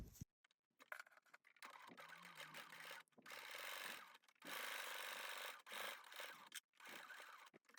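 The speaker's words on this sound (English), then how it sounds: "we're going to sew along that top edge 1/4 of an inch" A sewing machine stitches fabric along a bag's top edge at a short stitch length, running in bursts of steady whirring separated by brief pauses and handling noise.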